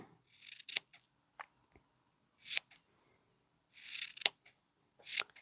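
Small scissors make a handful of sharp, close snips at irregular intervals while trimming, each cut quick and quiet against near silence, with faint handling rustle between.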